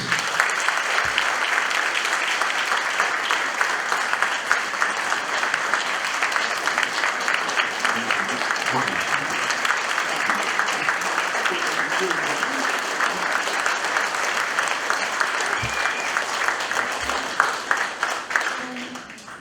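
Audience at a Knights of Columbus patriotic awards program gives veterans a long, steady round of dense applause, holding loud and even throughout, with a few voices and thumps mixed in near the end.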